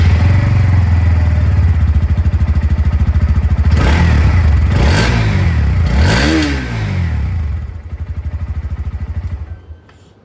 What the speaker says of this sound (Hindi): हर बाइक की तरह यहाँ पर भी मैं आप लोगों को इसकी जो एग्जॉस्ट साउंड है वो सुना दूँ